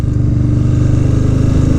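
A cammed 80-cubic-inch Harley-Davidson Low Rider ST idles up close, its engine loud with a lumpy, uneven low-pitched thump that repeats steadily throughout, with no voices over it.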